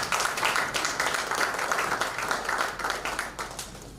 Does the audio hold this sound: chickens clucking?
no